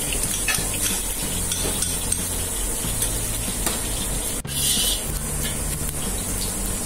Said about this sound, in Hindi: तो सबसे पहले आपने यहाँ पे घी डाल दिया है।